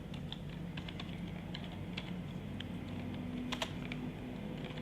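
Steady typing on a computer keyboard while writing Urdu text in InPage 2009, soft rapid key clicks over a low background hum, no voices.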